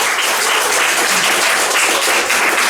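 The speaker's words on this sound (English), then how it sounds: "Round of applause." Applause from a comedy show audience at a pub, loud and dense, filling the whole short stretch with no pause.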